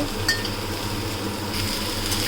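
Fried lentil-paste bori being stirred into leafy greens cooking in a pan for choddo shaak, a low steady sizzle with a few light utensil scrapes and clinks, close and continuous.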